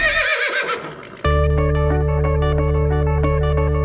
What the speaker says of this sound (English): it pains me greatly to say it, but my beloved horse, Mr. Edward, has eaten your hat.